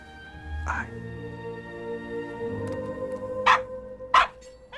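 A dog barking in a scene from the animated film Anastasia, a few sharp separate barks amid voices and background score.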